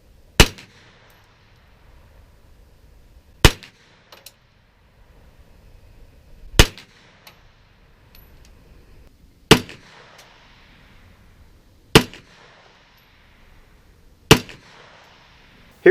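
Six single shots from a Lone Wolf G9 AR-15 style 9mm carbine at an outdoor range, sharp loud cracks spaced about three seconds apart with quiet gaps between.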